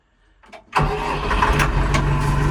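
A DMTZ 404XC tractor engine starts from the key. A short starter crank quickly catches, and the engine settles into a loud, steady idle close by.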